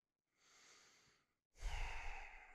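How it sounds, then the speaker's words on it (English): Two slow, deep breaths during a guided acupressure exercise: a soft, drawn-out breath followed after a brief pause by a louder, fuller exhale, close and alone with no talk. "Breathing deeply."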